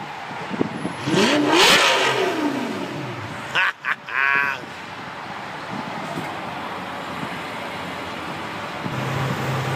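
A Lamborghini exotic car on a Montreal street revs hard in a rising and falling engine sweep early on, then fades into a steady hum of passing traffic.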